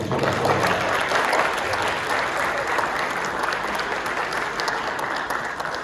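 A room full of people at a retirement gathering breaks into sustained applause, dense and even clapping that holds steady throughout at a moderate level.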